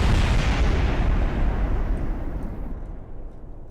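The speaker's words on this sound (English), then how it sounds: "Yup, everything's exploding" Spacecraft breaking apart in Kerbal Space Program, a loud, dense rumbling explosion that roars continuously and slowly fades over a few seconds, with no voices.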